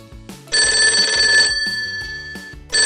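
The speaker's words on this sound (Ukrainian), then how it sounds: "Ой, дзвінок." An electronic telephone ring trills loudly in two bursts, separated by a pause with a low beeping tone pattern beneath; part of a children's didactic game.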